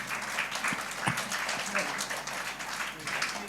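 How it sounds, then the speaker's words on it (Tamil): A crowd claps steadily at a birthday remembrance and cake-cutting celebration, a dense wash of hand claps running throughout at moderate loudness. "இவங்க எல்லாருக்காகவும் ஒரு கைத்தட்டல் கொடுத்துடலாமா?"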